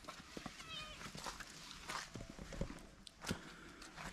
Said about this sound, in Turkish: Kedi de bizle beraber geziyor sürekli.